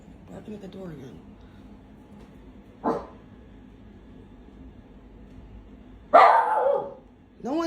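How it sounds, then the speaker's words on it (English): A dog lets out a few sharp barks, a single one first and then a louder, longer burst near the end, amid a quiet room with some voices. "Barking at the door again."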